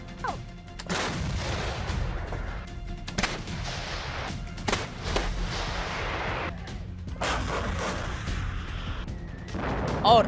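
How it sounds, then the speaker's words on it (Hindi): Heavy artillery and gunfire from the Russia-Ukraine war, with repeated sharp blasts and booms over a continuous roar of battle noise, loud and close throughout. "तोपों की गूंज,"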